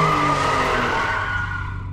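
Car tires squealing in a long loud skid as a fast-driving car brakes hard, a radio-play sound effect that fades out over about two seconds.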